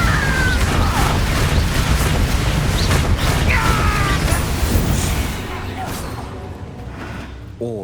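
A Confringo fire spell blasts in Hogwarts Legacy with a loud, sustained explosive roar and crackling bursts that fade into a lower rumble. Game music and voices play around it.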